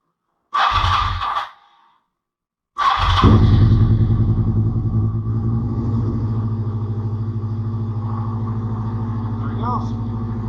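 A 2001 Suzuki SV650S motorcycle engine cranks briefly, cuts out, then catches on a second start and settles into a loud, steady, close idle.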